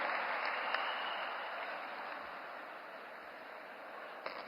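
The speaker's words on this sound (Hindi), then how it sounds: "आप सभी की तालियों के बीच आमंत्रित करते हैं हमारे माननीय मुख्यमंत्री डॉक्टर मोहन यादव जी को।" Faint, distant applause from a large crowd welcoming the chief minister at a public event, a steady wash of clapping throughout.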